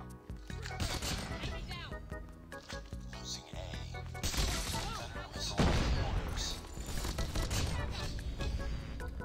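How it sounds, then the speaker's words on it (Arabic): A machine gun scorestreak in Call of Duty Mobile fires in rapid, dense bursts alongside booms and other gunfire, while a player talks over the chaotic battle. "هذا السكور ستريك معفن. عباره عن رشاش بس."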